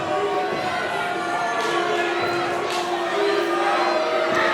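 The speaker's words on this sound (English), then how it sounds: "This crowd is not pleased with TDT." Wrestling event crowd at a live show, a dense, steady roar of many voices with scattered shouts and jeers filling the whole stretch, loud and continuous.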